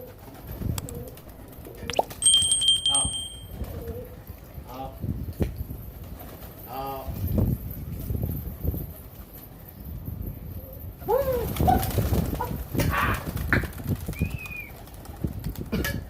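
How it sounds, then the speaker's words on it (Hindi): Pigeons flutter and coo in a training session, with brief wing flaps and soft coos amid a whistle and outdoor noise, while someone talks intermittently. "देख सकते हैं ये अपने कबूतर हैं भाई माशाल्लाह से। ये तावे भी खा रहे हैं, उड़ भी रहे हैं"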